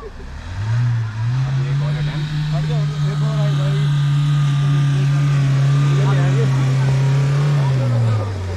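Red Mahindra Thar climbing an off-road obstacle, its engine held at a loud, steady high rev for several seconds before dropping, with voices talking over it.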